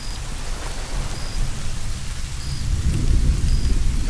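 Rain hisses continuously in an Arma 3 thunderstorm while rolling thunder rumbles low and builds toward the end, loud and enveloping, with no voices.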